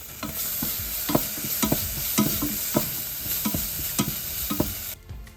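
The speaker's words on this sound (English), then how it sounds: "add 1 teaspoon of ginger paste, followed by 1 teaspoon of garlic paste. Saute until the raw smell has disappeared." Ginger and garlic paste sautéing in a pan, a steady sizzle broken by regular scraping strokes of a spoon, close and fairly loud, stopping abruptly near the end.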